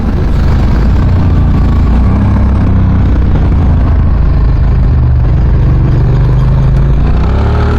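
A motorcycle engine, freshly given a top-end rebuild, drones loud and close on its first ride, a continuous rough mechanical roar that swells under throttle near the end, no talking.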